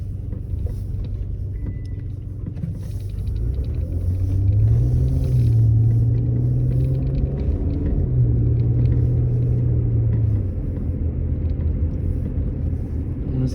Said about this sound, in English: just hear the rumble of that V6 engine